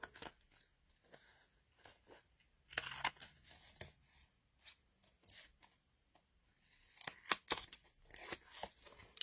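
Scissors snip through sticky card for a handmade star burst card, giving quiet, irregular cuts and crunches with short pauses and brief tearing sounds, close up with no talking.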